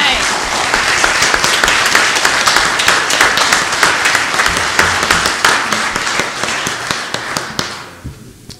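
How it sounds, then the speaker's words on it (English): A church worship congregation applauds veterans who stand to be honored, producing a dense, sustained burst of clapping that holds strong for about seven seconds and then tapers off. "And my tradition is that we ask the veterans to stand, and then we clap."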